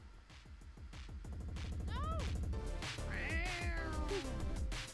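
Cat meows in the video game Super Crush KO, several rising and falling mews heard closely over busy rhythmic game music and effects.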